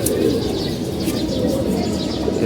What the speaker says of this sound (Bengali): এই যে আমাদের কবুতরগুলো দেখতেছেন